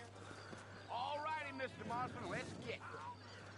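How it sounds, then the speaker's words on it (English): Horse hooves clip-clopping in the Western video game Red Dead Redemption, faint and mixed under a steady hum, with a horse whinny-like call rising in the middle. "Alright, I'm assuming this is my horse."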